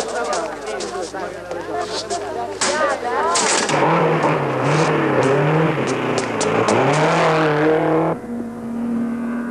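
Ferrari and Alfa Romeo racing cars from the early post-war Grand Prix era roar loudly, engines rising and falling in pitch as they speed past, with a narrator talking over the noise.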